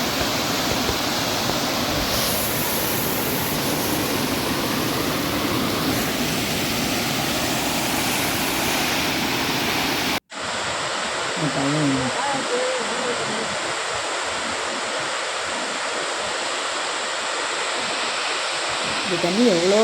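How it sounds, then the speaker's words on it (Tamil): A waterfall at Kodaikanal roars as a loud, steady, close rush of water; after an abrupt cut it continues more softly, with faint voices and other small sounds over the flow. "இதுதான் அந்த அருவி, எவ்வளோ அழகாக இருக்காங்க."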